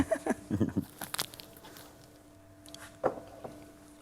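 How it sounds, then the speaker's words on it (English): Teeth bite into crunchy caramelized sugar, giving a few close, sharp crunches in quick clusters at first, then a pause before another single crisp crack. "The crunch of the sugar as well"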